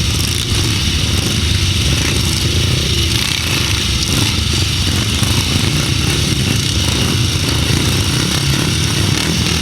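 Pre-1975 grasstrack motorcycles race at the Bewdley Bonanza meeting in 2006, their engines massed in a continuous loud, raw roar that holds steady throughout with no clear gaps.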